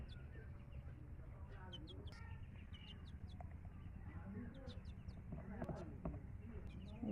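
Faint clucking and quacking from chickens and ducks, scattered calls over a low, constant background rumble.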